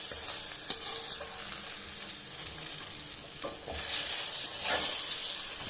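A piece of bhetki fish fries in a pan of hot oil, giving a close, continuous sizzle with crackling bursts and the scrape of a spatula stirring now and then.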